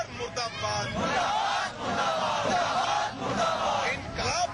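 Crowd of protesters chanting and shouting slogans together at a demonstration outside the legislative assembly, a dense, continuous roar of many voices rising and falling in waves, heard from close by.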